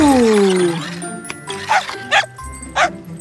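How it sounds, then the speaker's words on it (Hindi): A cartoon dog barks three times in a quick, evenly spaced series, loud and close, following a sweeping tone and light tinkling in a kids' animated fire-truck rescue show. "टॉर्च बदमाश कुत्ता"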